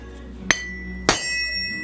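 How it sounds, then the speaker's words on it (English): Two sharp metallic hammer taps on a forged Damascus steel boomerang blank, marking its centre, the second strike ringing longer with a bright clink that decays slowly. "find a hammer. And I'll just put a centre mark in it for visual reference"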